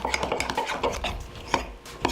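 Egg being mixed into keto mug cake batter with a knife, quick tapping and scraping strokes of the blade against the mug in a brisk uneven rhythm, close and clear with no talking.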